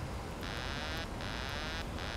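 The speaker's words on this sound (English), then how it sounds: "that's the sound of switching off the autopilot" A repeating electronic autopilot disconnect warning tone from a Boeing 737-800 flight simulator, a steady high buzz that cuts in and out in a rhythmic pattern over low background hiss.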